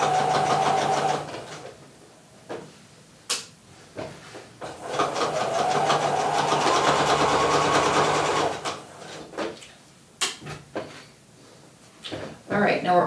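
A sewing machine back tacks stitches in gray thread on knit fabric, a steady mechanical whir running for several seconds between short bursts, with clicks and handling noises before and after and a voice speaking intermittently.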